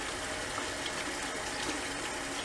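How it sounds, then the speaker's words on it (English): Cold water runs from a bathroom tap during a shave, a faint, steady hiss and gush with no breaks and no voices. "We're going to show cold water coming from the other end of the house."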